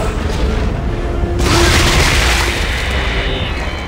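A heavy, loud explosion blowing up necromorphs in the video game Dead Space 3, a deep booming blast swelling into a broad rumbling roar that lingers for several seconds.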